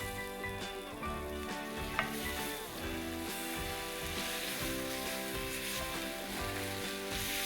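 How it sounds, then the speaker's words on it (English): Onions frying in a pan as Schezwan sauce goes in, a quiet steady sizzle with a light stirring clink, heard under soft background music without speech. "Let's add some Schezwan sauce now."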